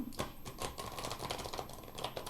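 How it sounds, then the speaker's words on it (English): Rapid crisp riffling clicks of tarot cards being shuffled, a dense fluttering burst lasting a couple of seconds, close and fairly quiet. "So we're going to do one more shuffle here"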